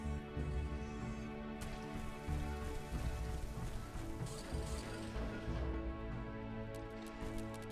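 A Blue Rain weather event sweeps over the battlefield in The Riftbreaker, a steady dense patter of rain on surfaces with scattered sharper impacts and a low game-music bed underneath, and no talk.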